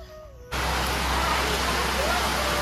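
Heavy rain suddenly pours down in a dense, steady hiss, loud and close, after a quiet moment.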